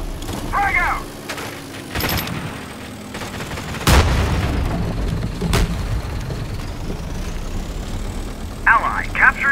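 A frag grenade explodes in the CROWZ online shooter, a sharp loud boom near the middle standing out over continuous battle noise, with in-game voice callouts heard around it.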